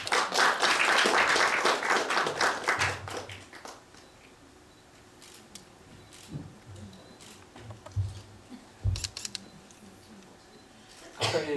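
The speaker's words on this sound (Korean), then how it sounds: "큰 박수로 맞이해 주시기 바랍니다." A crowd at an LG Electronics monitor marketing event claps loudly for about three seconds to welcome a company executive, then the applause dies away to quiet with a few scattered taps and small sounds.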